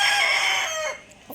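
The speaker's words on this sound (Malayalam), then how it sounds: "അപ്പോൾ നമ്മളെ വീട്ടിലത്തെ വലിയ പൂവൻകോഴി നല്ല ഉഷാറായി ഒന്ന് കൂവിക്കണ്ട" A big domestic rooster crows loud and close in one long, full cock-a-doodle-doo that fades out near the end. A short faint cluck follows.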